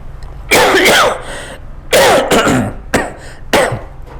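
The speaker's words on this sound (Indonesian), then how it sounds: "Batuk dulu, nggak apa-apa." Four harsh, close coughing bursts separated by short pauses, with throat clearing between them and no talking.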